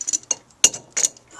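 A wrench turns a Cummins diesel fuel filter, giving a few short, sharp metallic ratchet clicks and clinks in separate bursts with quiet gaps between.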